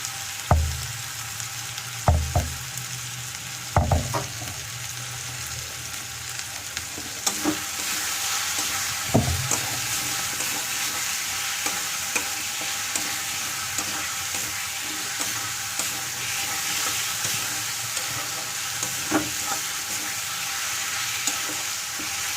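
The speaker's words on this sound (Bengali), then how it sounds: "টমেটো খানিকটা ফ্রাই হতে হতে বাকি মশলা ঢেলে দেবো।" Tomatoes frying in a pan, a few early knocks and stirs giving way to a steady, hissing sizzle that carries on evenly with faint spatula scrapes.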